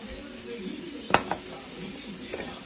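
Crab pieces drop into a hot pan of oil spiced with chili powder, salt and turmeric, giving a sharp clattering burst over a steady low sizzle, with a smaller clink after and a faint one near the end.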